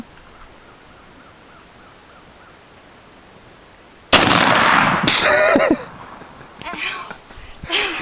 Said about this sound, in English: Shoot the bottle